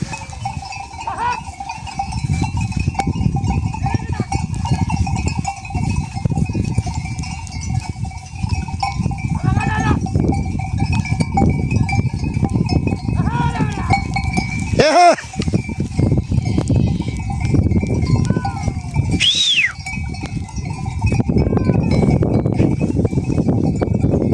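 Scattered sheep bleats, a few calls spaced several seconds apart, rising over a steady outdoor wind-like rush in harsh winter blizzard conditions.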